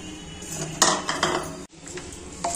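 A spatula scrapes and clanks against a pan as chopped soy and fenugreek greens are mixed into matar keema, with several sharp metallic knocks over a steady rustle and no talking.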